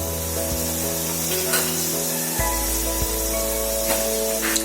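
Onions or spices sautéing in a pan for turkey biryani make a loud, steady spraying sizzle with a low hum and occasional light scrapes.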